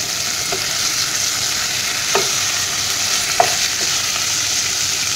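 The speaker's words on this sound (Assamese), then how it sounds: "এয়া মাছখিনি মই 5 মিনিট সময় এনেদৰে ভাজিলোঁ মাছৰ মূৰখিনি" Fish heads frying in oil in a pan over a low flame, a steady close sizzle throughout with a few soft stirring clicks and pops, no voices.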